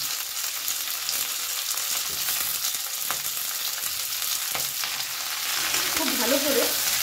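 Thick spinach stalks and beans stir-frying in a pan give a steady, dense sizzle with occasional soft stirring knocks, and no talking is heard over the frying.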